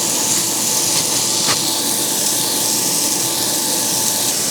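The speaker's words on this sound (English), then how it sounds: "So I'm gonna go ahead and put that into the Dutch oven." Bacon bits sizzle in a cast iron Dutch oven over medium heat, a steady broadband hiss that holds evenly with no talk and one brief crackle.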